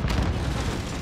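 An RPG rocket explosion in a video game, a single loud, booming blast that fills the whole second with rumbling, broadband noise.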